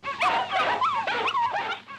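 Cartoon dogs yip and whimper in a quick, busy burst of overlapping animated barks and whines, close and loud, from a Casper and Friends cartoon episode.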